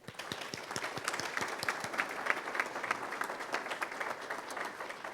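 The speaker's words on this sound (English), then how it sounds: "How about one more round of applause for Ian?" An audience at a First Friday event gives speaker Ian another round of applause, with dense, lively clapping and some distinct individual claps standing out early on.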